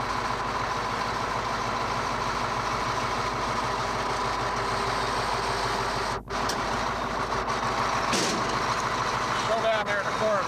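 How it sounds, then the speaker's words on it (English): A diesel fire truck engine idles with a steady low rumble throughout, joined by a brief sharp knock and some faint background voices. "It's a diesel engine."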